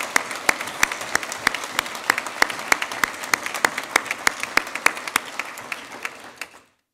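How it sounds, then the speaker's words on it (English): Applause at an award speech, a dense crowd clapping with sharp distinct claps standing out in a fairly regular pattern, fading out at the end. "So please, round of applause"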